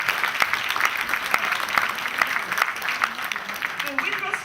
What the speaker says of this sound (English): The round of applause.